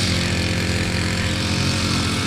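Grass cutter engine running while cutting grass, a loud, steady buzzing motor drone close by throughout, with no speech.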